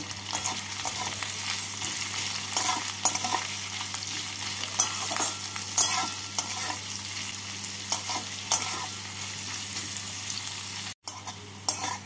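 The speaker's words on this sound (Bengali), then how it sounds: "এবার এর মধ্যে আমি কুচনো পেঁয়াজটা দিয়ে দেব। পেঁয়াজগুলোকে হালকা লাল করে ভেজে নেব।" Chopped onions sizzle steadily in hot oil over a cumin tempering, with a constant frying hiss punctuated by scraping stir strokes and no talking.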